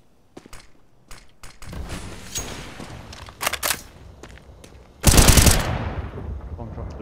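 Rapid automatic gunfire in Counter-Strike: Global Offensive, with scattered single shots and short bursts building to a loud, dense volley near the end, while a player talks over the action.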